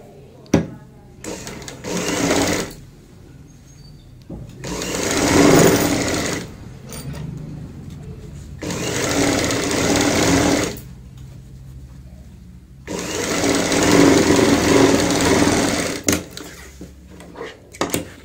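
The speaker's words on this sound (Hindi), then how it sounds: "सबसे पहले हमें यहाँ पे इस पॉइंट पे ही रखते हुए सिलाई लगानी होती है" A sewing machine stitches a zip onto a bucket stool cover in four loud, steady whirring runs of several seconds each, separated by quieter pauses with occasional handling clicks.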